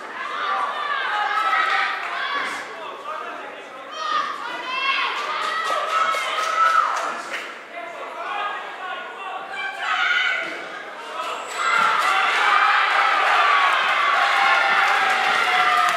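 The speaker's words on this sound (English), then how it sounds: "And he's got a great crowd behind him" A boxing crowd at a Tony Oakey fight roars and cheers throughout, rising and falling in waves and swelling louder near the end, with commentators talking over it.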